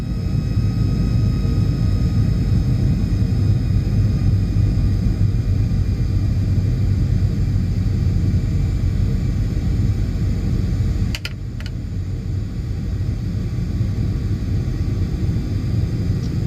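Cockpit sound of an American Airlines PMDG 737-800 in a flight simulator game on approach to land, a loud, steady broadband engine and airflow roar with a faint electronic hum and a brief click partway through.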